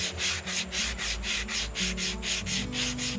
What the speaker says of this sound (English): I like these foam block sanders, and I get them in 60 grit and 120 grit